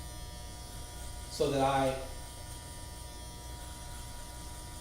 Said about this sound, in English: Because I'm going to use my shaver.